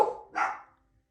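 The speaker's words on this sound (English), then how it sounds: "And my dogs are going nuts." Household dogs give two quick barks close by, a lower bark followed by a higher, sharper one, then quiet.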